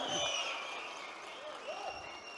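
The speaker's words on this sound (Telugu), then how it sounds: "ఒక్కసారి అందరూ చప్పట్లు కొట్టి కృతజ్ఞతలు తెలియజేయమని కోరుతా ఉన్నా" At a public event with the Chief Minister, an audience claps in a soft, diffuse patter heard from some distance, with faint voices and background murmur mixed in.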